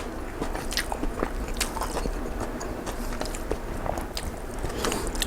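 Someone eats stir-fried drunken-style instant noodles with chili, with close, wet chewing and crunchy bites in a steady, busy rhythm and no talking.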